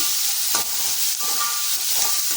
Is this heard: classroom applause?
no